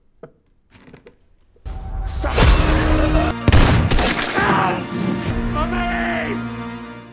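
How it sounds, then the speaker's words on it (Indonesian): A dramatic thriller scene fills with loud, dense gunfire: a sharp early crack, then a sustained barrage of overlapping shots and booms with a brief break, tailing into ringing noise. "Tembakan terakhir dari Sven membuat tangan Richard akhirnya somplak dan terlempar"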